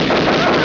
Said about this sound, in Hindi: Stop the firing, stop the firing.